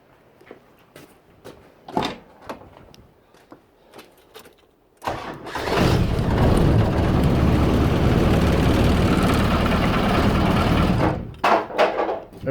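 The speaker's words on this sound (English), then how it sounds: "the engine runs, as you can clearly hear" A few clicks and taps, then a 1990 car's engine starts and runs loudly and steadily for several seconds before cutting off, followed by more clatter.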